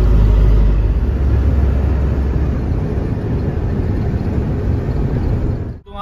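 Car driving along the Gorakhpur bypass at about 60, a loud steady rumble of engine and road noise heard from inside the cabin that cuts off abruptly at the end.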